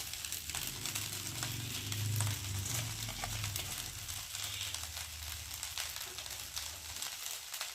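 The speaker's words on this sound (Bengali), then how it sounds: "এবার পুরো ভাতটাই দিয়ে দেবো।" Cooked rice is tipped into a hot pan and stir-fried for fried rice, a soft continuous sizzle with light scraping and stirring, close and steady.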